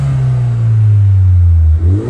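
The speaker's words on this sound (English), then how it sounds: "Just gonna give it a little rev, just so you can hear that exhaust and the induction kit on it." A Ford Fiesta ST2 fitted with an aftermarket exhaust and induction kit gives a loud, close rev, its deep engine note holding high and then easing down, with no talk.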